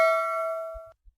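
A single bright notification bell dings once, its clear metallic tone ringing and slowly fading over about a second before cutting off, followed by a couple of faint low thumps.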